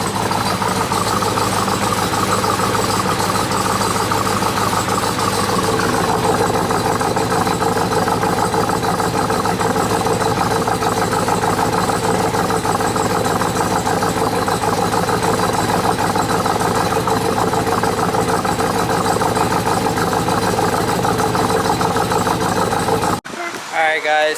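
Big-cam 426 Hellephant V8 in a Ram TRX idling at a gas station, a steady, loud, lumpy rumble that runs unbroken for the whole stretch before cutting off at the end.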